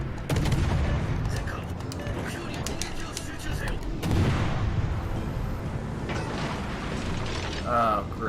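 Rapid secondary battery guns fire in a naval battle in World of Warships Legends, a dense rattling barrage of close mechanical bangs and clatter that keeps going across the whole stretch, with game effects layered underneath.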